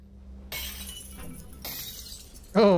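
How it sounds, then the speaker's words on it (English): Glass shattering in the VR game Half-Life: Alyx, several crisp breaking crashes in succession over a low hum, ending in a louder ringing burst, with no voices. "Broken glass."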